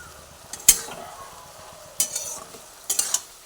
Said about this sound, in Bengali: এটা দেওয়ার পর আর একটু নাড়াচাড়া করে দিই